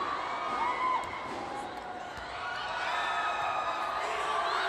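A volleyball crowd dressed in blue and white cheers and shouts during the fifth-set semifinal of the 2015 PSL Grand Prix, Philips Gold versus Foton. The roar is dense and sustained, swelling and easing with a commentator talking over it.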